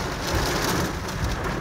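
Heavy rain falls during a drive, a dense steady roar of drops that fills the whole moment without pause and with no voices.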